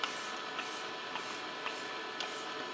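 Short bursts of e.l.f. Dewy setting spray misting from a pump bottle during a makeup routine, about five quick hissing puffs spaced at a steady rhythm, close and soft, with no talking.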